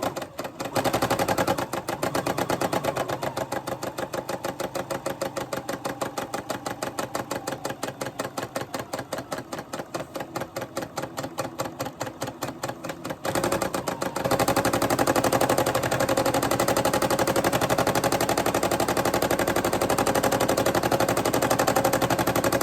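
A home sewing machine stitches around a fabric Easter egg, a fast steady run of needle strokes going on for several seconds, pausing briefly, then resuming in a denser, continuous whir; no voices.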